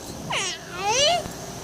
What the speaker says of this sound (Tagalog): Ang sabi ng cat.